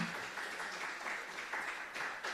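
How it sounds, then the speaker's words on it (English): An expo morning session audience gives a round of applause, a moderate, steady patter of many hands clapping that is fairly soft and distant. "A round of applause"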